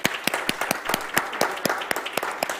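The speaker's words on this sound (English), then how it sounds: "everybody give Denise a wonderful round of applause" A congregation claps at a Sunday service. The claps come as loose, distinct sharp strikes from a modest group rather than a dense roar, with an uneven rhythm at moderate volume.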